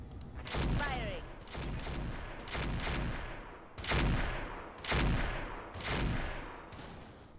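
Mech weapons in the BattleTech-based game Roguetech fire in a volley of loud, sharp blasts, about seven heavy booming shots spaced roughly a second apart with rumbling tails, against a busy game soundscape.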